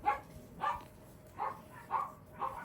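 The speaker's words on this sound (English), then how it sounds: "I'm sorry for my dogs barking in the background." Several dogs bark in a background room during a crochet session: five separate barks at uneven intervals, each short and moderately loud, with quiet room tone between them.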